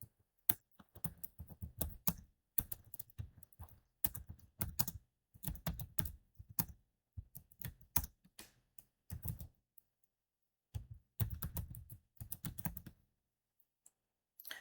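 Close, crisp keystrokes on a computer keyboard come in bursts of typing separated by short pauses, with no voices.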